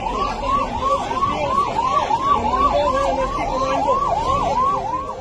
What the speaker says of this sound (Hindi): सायरन बजाती हुई एम्बुलेंस घर के अंदर पहुंची